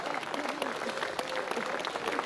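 Open-air crowd applause at an accordion festival in a town square, dense continuous clapping after a comedian's joke, fairly loud and close, with voices mixed in.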